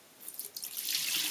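Water is poured out of a Williams shaving soap mug holding a puck of soap: a close, trickling splash that grows into a steady stream toward the end, with no talking.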